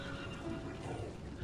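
A horse whinnies in the game Immortals Fenyx Rising, heard alone in a brief burst against a steady outdoor ambience with soft hoof sounds underneath.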